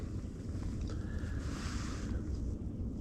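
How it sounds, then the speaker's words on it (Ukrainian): Wind blowing on a lake shore during perch fishing, a constant broad rushing with gusty buffeting against the microphone, steady and fairly loud throughout, no talk. "Ну, вітер є, он дує"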